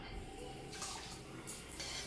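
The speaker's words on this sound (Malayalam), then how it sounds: "ഞാൻ അരി ഒരു മൂന്ന് നാല് വെള്ളം കഴുകും" Water splashes and swishes in short bursts, like rice being rinsed by hand in a pot, close by with a steady watery background.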